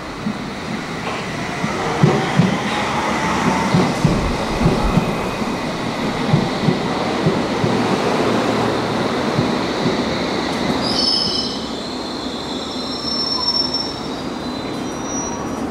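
A London Underground District line train rolls into a platform towards Edgware Road with rumbling and rattling wheels, then high metallic squeals rise as it brakes.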